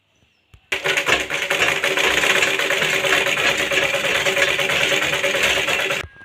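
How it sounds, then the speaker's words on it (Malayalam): Sewing machine stitching the side seams of a slip: a steady, loud, close mechanical whirr that starts abruptly, runs evenly for about five seconds and stops sharply. "ഇപ്പം നമ്മൾ 2 സൈഡും സ്റ്റിച്ച് ചെയ്ത് കഴിഞ്ഞു"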